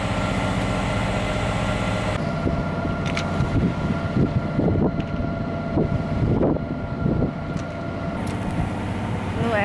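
A sailboat motors through a dead-calm night between Boston and Nova Scotia, its engine droning steadily under wind noise on the microphone, with a quiet voice speaking over it midway.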